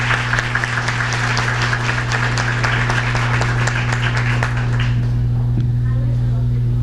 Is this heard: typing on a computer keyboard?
no